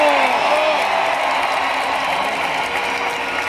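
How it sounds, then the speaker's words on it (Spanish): Large outdoor crowd at a Madrid political rally applauding and cheering steadily, a dense continuous wash of clapping with a few faint voices rising early on. "un aplauso a ustedes mismos"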